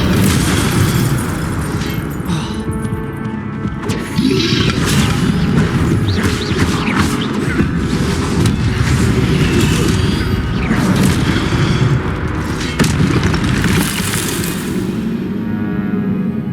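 Incendio fire spell blasts in Hogwarts Legacy, loud booming bursts and crackling impacts repeating across a long stretch of dense, chaotic combat noise.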